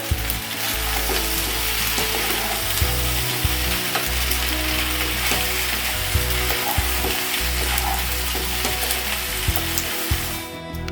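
Egg pasta tossed with spices in a hot pan, a loud continuous sizzle with frequent close scraping and stirring strokes of a spatula, going steadily without speech.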